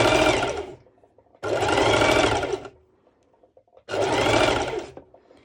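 A sewing machine on its longest stitch length sews stretchy four-way lycra mesh in three loud, even runs of stitching, each about a second long and separated by short quiet pauses.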